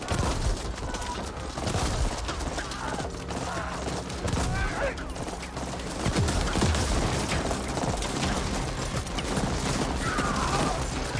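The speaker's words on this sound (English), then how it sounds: "I was shooting past that guy and the bullets were coming back to get him" Sustained gunfire and blasts in the action video game The Ascent, a dense continuous barrage of shots and impacts over a loud rumbling background.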